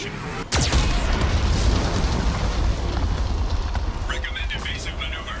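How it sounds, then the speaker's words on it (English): A sudden heavy detonation from a Geth cannon in the video game Mass Effect 2 bursts loud and close, then spreads into a sustained roaring rumble, with game voices over it. "Warning, Geth cannon is locking on our location."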